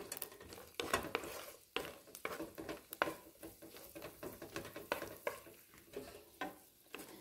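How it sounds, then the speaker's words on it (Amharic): Raisins being fried in oil in a pan for a fasting-season Ethiopian breakfast, with bursts of sizzling and repeated stirring and scraping clatter close by; no talking. "ዘቢቡን በዘይቱ እንዲያርጌ ጥበስ አድርገዋለሁ።"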